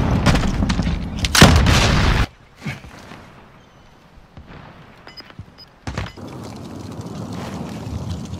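A loud explosion in the Warzone video game: a heavy roaring blast at the start that cuts off abruptly, followed by quieter scattered bangs and a second burst of rumbling noise.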